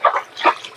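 Short squeals and grunts from three-month-old fattener pigs in a farm pig pen, two quick bursts, then another louder cry and a brief final call, close by with no talking.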